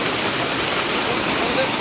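A waterfall pours steadily over slippery rocks at an offbeat homestay in Kaffergaon, Kalimpong, a loud, unbroken close-up rush of falling water with no pauses.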